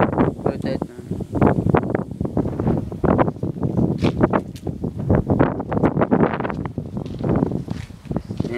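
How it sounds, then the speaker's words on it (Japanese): Strong gusty wind ahead of an approaching typhoon roars and buffets the microphone in continuous loud surges, with rustling and a voice speaking underneath. "今めっちゃ風強い。"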